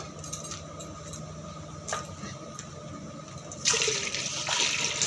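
Water poured into a cooking pot in a home kitchen, added after milk for rice pudding, a brief splash early and then a louder rushing pour in the last second and a half, with no speech.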